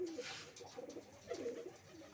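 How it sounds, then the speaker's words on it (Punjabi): Pigeons coo in low, throaty rolling calls, a couple of bursts close by over a faint background hiss. "ਕਬੂਤਰ ਫਿਰਦੇ ਆ ਵਧੀਆ ਗੁੜਕਦੇ ਫਿਰਦੇ ਆ"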